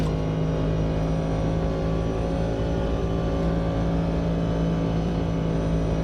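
An LMP prototype race car in the Automobilista 2 racing game drives with a loud, steady engine drone that holds a constant pitch throughout, with no voices heard.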